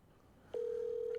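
A telephone tone on a call begins abruptly partway through and holds as one steady, unbroken electronic note, loud and close, after a quiet stretch.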